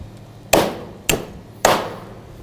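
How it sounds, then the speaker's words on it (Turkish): Three sharp, heavy chops of a cleaver cutting through a carp on a board, evenly spaced about half a second apart, loud and close, with no talking. "şöyle ilerlerini bir satır yardımıyla kesebilirsiniz."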